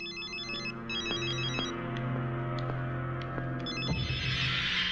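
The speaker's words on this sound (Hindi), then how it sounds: "रिंग बजी तो थी" A telephone rings in repeated electronic trilling bursts over a steady low hum, fairly close, with a few faint clicks between rings and no talking.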